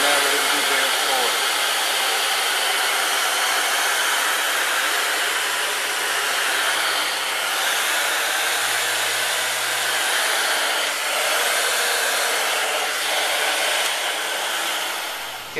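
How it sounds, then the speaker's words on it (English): Miele S1 Quickstep vacuum cleaner running on a bare floor, a loud steady whirring hiss of motor and airflow that holds for the full length with only slight shifts in pitch. "By simply stepping on this little switch and turning it on, and now we're going to do bare floor."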